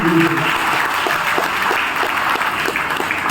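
Loud, steady applause from an audience at an RCM gathering in Amroha, a continuous dense wash of clapping throughout with a faint voice briefly at the start.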